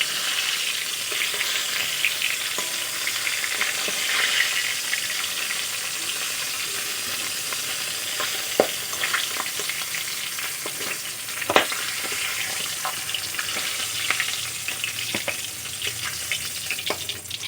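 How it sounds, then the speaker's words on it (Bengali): Fish heads fry in oil with a steady, close hiss and crackle that runs throughout, broken by occasional sharp pops and spatters. "মাছের মাথাগুলো আমি ভালো করে লাল করে ভেজে নিয়েছি"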